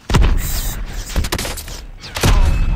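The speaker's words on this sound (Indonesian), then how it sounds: "Kena granat juga dia." Grenade explosions in the shooter game Call of Duty: Mobile, heard as several sharp booming blasts with short gaps between them, close and loud with crackling debris.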